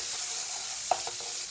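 Capsicum frying in butter with cumin in a pan, a steady broadband sizzle with a few soft stirring clicks from a spatula, close and even throughout.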